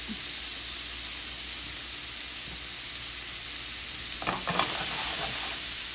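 Salmon fillets sear in hot oil in a pan, making a steady, loud sizzle that holds throughout, with a few brief clinks and scrapes near the end.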